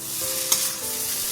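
Chicken noodles fry over high flame in a hot pan, a bright continuous sizzle with a quick scrape of stirring partway through, close and without any voices.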